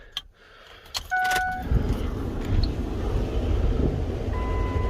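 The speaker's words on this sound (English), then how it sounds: "Now let's give it a little start up here." Ford 6.0 Powerstroke diesel truck being started: a few clicks and brief beeping chimes, then from about two seconds a steady low engine rumble that keeps running with a faint fan hiss.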